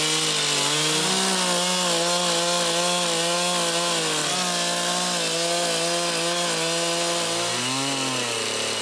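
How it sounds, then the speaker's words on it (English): A chainsaw roars loudly and continuously as it cuts through a log, its engine pitch dipping and rising as it bites into the wood. "Chainsaw definitely made it easier."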